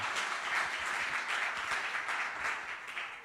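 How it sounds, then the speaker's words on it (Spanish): Audience applause at a church service, a fairly quiet, steady patter of many hands clapping for a few seconds without a break. "Give a big round of applause to the Lord"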